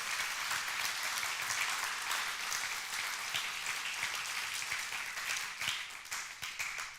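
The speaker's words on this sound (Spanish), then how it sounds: "Dale fuerte ese aplauso." Church congregation applauding during a sermon, a dense sustained clapping that holds steady for several seconds at full strength, then turns slightly more uneven toward the end, with no talking over it.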